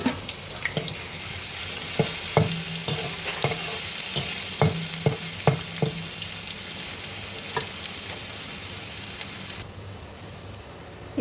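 Fenugreek leaves and garlic fry in a pan, with a steady background sizzle and repeated sharp scraping clicks from stirring that come at an irregular rhythm, then fade to a quieter sizzle near the end.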